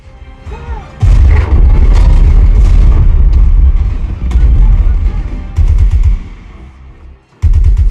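Loud, booming movie explosions and bursts of gunfire erupt in heavy waves, with brief lulls between the blasts, played through SVS SB3000 subwoofers.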